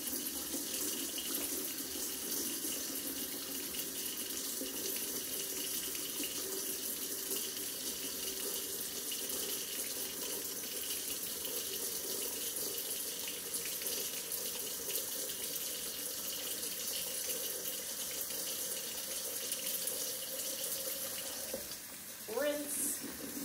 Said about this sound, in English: So I'm going to wash my hands now.